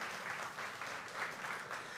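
A church congregation applauds during a sermon, steady rhythmic clapping heard at moderate distance in a reverberant room, with faint pulses of louder claps.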